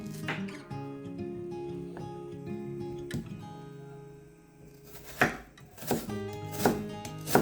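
A knife chops a red onion on a cutting board, a few sharp separate strokes at first, then firmer regular cuts toward the end, close and clear over soft background music.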